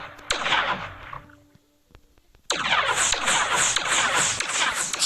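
Explosions in the Solar Smash planet-destruction game: a sharp blast dies into a fading roar, then after a near-silent pause a second blast bursts into a sustained, loud rushing rumble.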